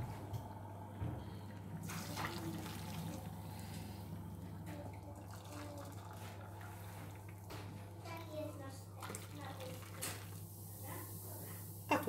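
Boiled water pours steadily into a measuring glass, a soft continuous trickle under a low hum, with faint clinks and brief background voices.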